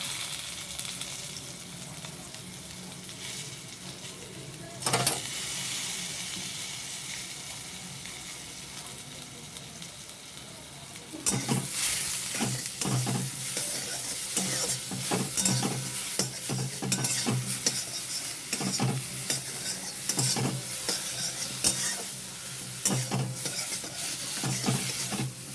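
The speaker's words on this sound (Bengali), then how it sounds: "ভালো করে মিক্স করে নিয়ে চাপা দিয়ে দেবো কিছুক্ষণ ভাজার জন্য" Eggplant pieces with turmeric and salt are stirred and fried in a pan, giving a steady sizzle with repeated scraping strokes. The sizzle grows louder and busier partway through, with no voices.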